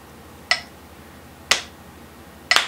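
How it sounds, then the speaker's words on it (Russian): Three sharp single claps land one second apart in an even, steady beat, each a crisp close crack with a short decay in an otherwise quiet room. "Сначала попробуйте просто это все прохлопать, чтобы у вас четко все ровно получалось."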